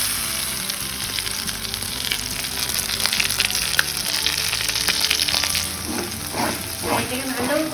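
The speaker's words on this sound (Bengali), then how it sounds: "এবারে দিয়ে দেবো মটরশুঁটি বাটা।" Ground green pea paste and chopped ginger fry in a pan with a steady, loud sizzle, while stirring adds scraping and shuffling sounds toward the end.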